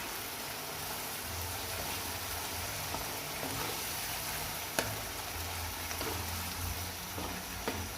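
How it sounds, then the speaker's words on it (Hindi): Boiled chickpeas and rice being fried with biryani masala in a pan, a steady close sizzle with occasional soft clicks of stirring, no voices. "भूनेंगे इसको बिरयानी मसाले के साथ अच्छा सा चनों को।"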